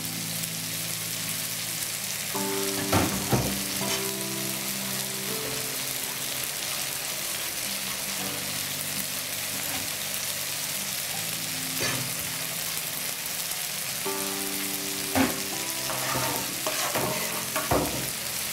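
Milk goes into a pan of butter-roasted flour and mushrooms and sizzles steadily, with a few scraping stirs and clinks of a utensil against the pan.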